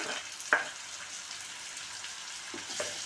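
Two finely chopped tomatoes going into a pan of frying onions and carrots for a leftover chapati stir-fry, a steady soft sizzle with a couple of brief spoon clinks.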